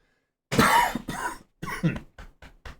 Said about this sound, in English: I'm going to have a little coughing fit.